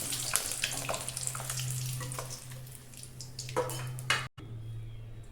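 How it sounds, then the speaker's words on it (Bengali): An egg fries in oil with a steady close sizzle and crackle, broken by a few clinks of a pan and utensil and a sudden brief cutoff before the frying resumes more quietly. "এটা ফোকাস করে আমি ভেজে নেব"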